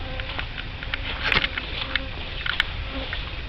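Honey bees buzz around a hive entrance in an outdoor bee yard, a steady insect drone with a few louder passes of individual bees flying close by.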